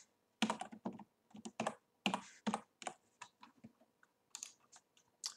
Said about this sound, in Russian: вводим номер карты